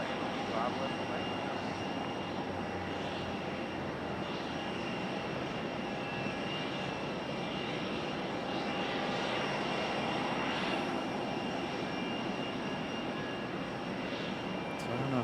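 A fixed-wing airliner approaching to land at Raleigh-Durham International Airport, a continuous loud engine roar with a steady whine held throughout, heard from a plane-spotting spot near the runway.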